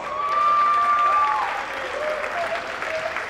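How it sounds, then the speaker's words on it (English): A school wrestling crowd in a gym applauds a wrestler who wins by forfeit. The clapping is dense and steady, with a thin whistle-like tone riding above it at first before it eases off. "Give him a round of applause."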